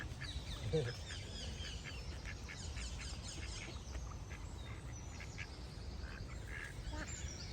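Ducks in a London park quack and honk over a steady outdoor wash, the calls scattered and moderately close amid general background noise, with voices talking nearby.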